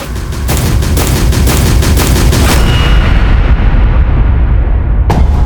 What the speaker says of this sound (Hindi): अभी अभी स्कूल के अंदर से गोली चलने की आवाज आई है।